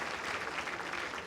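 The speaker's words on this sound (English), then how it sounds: "Come on, give me a round of applause." A bowls championship crowd applauds an 81-year-old bowler, a brief, steady wash of clapping heard from some distance.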